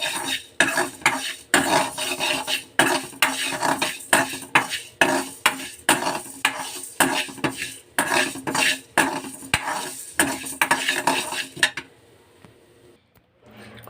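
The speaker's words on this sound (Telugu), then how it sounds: "నేను ఎండుమిర్చి తీసుకున్నానండి ఇవి సన్నని సగ మీద వేపుకోవాలండి సిమ్లో పెట్టుకొని ఎర్రగా వచ్చేలాగా వేపుకోవాలండి" Dried red chillies frying in a pan on low heat, stirred with a metal spoon that scrapes and clinks against the pan in a steady, repeated rhythm, close and loud, then stopping near the end.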